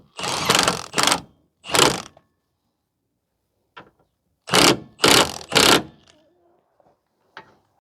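A wrench works a nut tight on a vehicle's rear shock mount, sounding as loud close bursts of ratcheting in uneven groups separated by silence, with a few faint clicks between.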